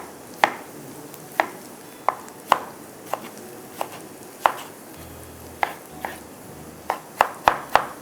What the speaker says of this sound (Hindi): फिर 2 टमाटर चॉप